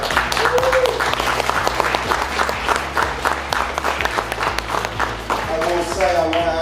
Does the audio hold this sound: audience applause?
yes